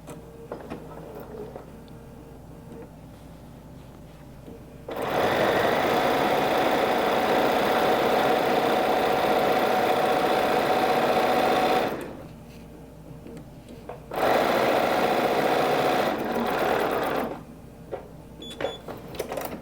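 A sewing machine stitching batik fabric for quilt blocks runs in two steady, loud bursts, about seven seconds and three seconds long, with quiet handling noise between them.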